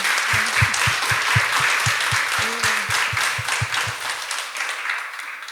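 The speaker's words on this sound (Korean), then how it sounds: "우리 박사님께 다시 한번 더 큰 박수 보내드렸으면 좋겠습니다" An audience at a university science-fiction cinema talk breaks into sustained applause, many hands clapping at once, loud at first and gradually thinning out toward the end.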